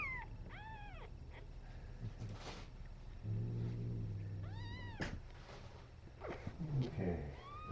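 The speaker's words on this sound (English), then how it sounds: "She's very growly, even when she's purring." A kitten makes low growly, rumbling sounds and a few meows close up, with a person talking quietly in between.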